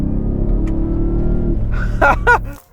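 A Ford Raptor R pickup truck's deep engine roars steadily up close as it accelerates hard in snow, then the rumble drops away as a voice briefly speaks at the end.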